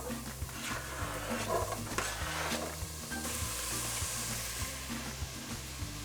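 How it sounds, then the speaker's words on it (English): Onions fry in olive oil in a large pot over medium heat, giving a steady close sizzle with occasional stirring scrapes and a low rumble underneath. "So I'm gonna start throwing my onions into that pan."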